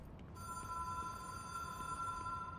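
Ringing telephone in the Control video game, a continuous bright electronic trill that starts almost immediately and holds steady over low ambient noise.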